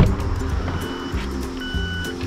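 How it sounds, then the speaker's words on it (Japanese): The anti-theft alarm on a Daihatsu Move Canbus G Makeup Limited SA III (LA800S) is set off by unlocking the door with the mechanical key. It gives a rapid series of loud, close electronic beeps in a repeating stepped pattern. "こんな感じでプープー鳴り出して"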